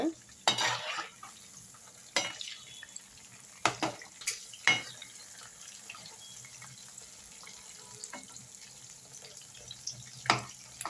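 Kebab pieces frying and roasting in a pan with oil give a faint, steady sizzle, punctuated by a handful of sharp scraping and stirring clinks as they are turned.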